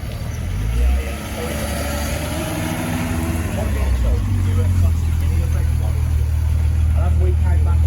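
A car engine runs on a dyno at a summer dyno day, a steady low idle that rises slightly in pitch and level partway through, with people chatting nearby over the engine.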